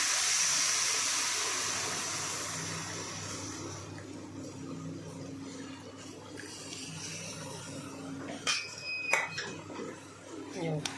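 Hot milk is poured into carrot halwa roasting in a pan, a loud rushing hiss that gradually fades, followed by quieter stirring and a few metallic clinks of a spoon against the pan, with a voice talking over it.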